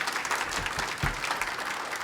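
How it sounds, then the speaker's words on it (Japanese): Audience applause for five panelists at a health-care systems summit, a steady two-second burst of clapping from a crowded hall. "この5人の素晴らしいパネリストの皆様に大きな拍手をお願いいたします。"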